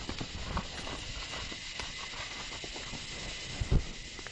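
A horse walking in a training session, hooves clip-clopping in an irregular slow rhythm at low level, with a couple of firmer steps near the end.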